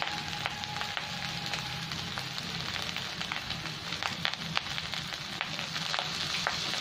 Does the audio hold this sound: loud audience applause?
no